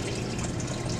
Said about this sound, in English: the developer gets poured back into the developing tank